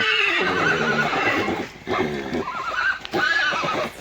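A mare neighs loudly and close by in several shrill, wavering whinnies broken by short pauses, with faint hoof clip-clop underneath.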